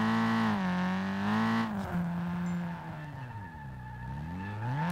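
In the SLRR driving game, a car drifts with loud, sustained tire squeal that rises and falls in pitch as the engine revs and bogs through the slide, close and continuous without any voices.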